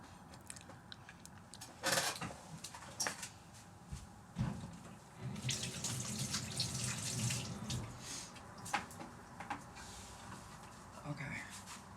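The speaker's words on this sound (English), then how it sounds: "I feel like I have to wash my hands already" Running tap water splashes over hands being washed at a sink, a steady close rush with knocks and clatter from a cupboard or fixtures, and a voice speaking briefly over it.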